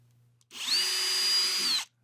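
A power drill fitted with a 1/4 inch bit bores an anchor hole into a wall, starting with a sharp whine that holds steady and loud for just over a second before spinning down, with nobody speaking.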